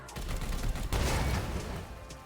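A unit opens fire in the Warhammer 40k Chaos Gate strategy game, a dense, sustained volley of gunshots and booms running the full length, loud and close with a heavier burst near the middle.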